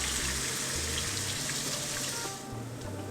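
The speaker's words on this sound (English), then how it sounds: "So I've added some water. I'm going to pour in the water." Water pours into a pot of sizzling Nyonya chicken curry, a steady hiss that eases off near the end.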